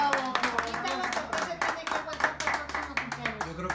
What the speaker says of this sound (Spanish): Ahí se le aplaude a la Quita